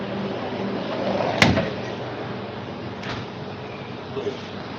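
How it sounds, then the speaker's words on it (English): A heavy door is forced open: one sharp thud or bang, then a fainter knock about a second and a half later, over a low steady room hum with no talk. "this door hard as shit to open"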